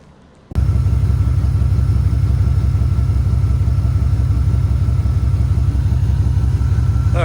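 A Chevrolet LT1 V8 idling through newly fitted exhaust headers with the downpipes connected, starting abruptly after a moment of quiet into a loud, close, deep rumble with a steady pulsing beat and no talk.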